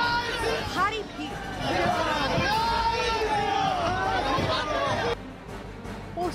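Big crowd at Suvendu Adhikari's election roadshow in Nandigram, Bengal: a dense, steady hubbub of many voices chattering and calling close around, loud throughout before dropping slightly near the end.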